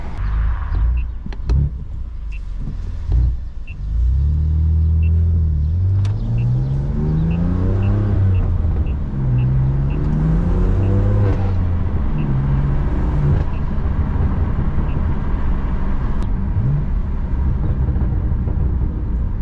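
A BMW M4 Competition with an AWE SwitchPath exhaust revs up through the gears with a deep, throaty exhaust rumble and burbling pops, loud and close, running steadily without any talk.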